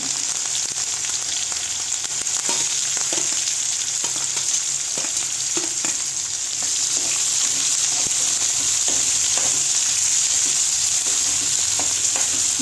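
Cumin, onion and curry leaves frying in a pan for a village-style horse gram dish, a loud, even, hissing sizzle close up, with occasional light taps of stirring and no speech.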